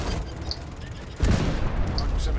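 Weapon fire in the space-combat video game Star Citizen: a dense, sustained burst of rapid shots kicks in partway through and continues to the end, mixed with a synthetic cockpit voice giving alerts.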